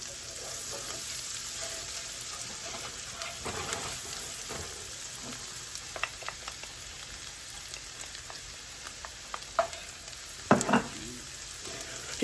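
Chicken pasta ingredients sizzle and fry steadily in a pan for cowboy butter chicken pasta, a continuous close crackle with occasional louder pops and a stir near the end.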